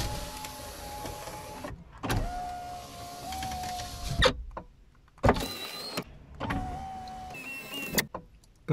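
Power window motor on a Fiat Fiorino, Peugeot Bipper or Citroën Nemo runs during a test of a new switch, whirring in several separate runs of about two seconds each, broken by clicks and clunks as the glass stops, close and clear.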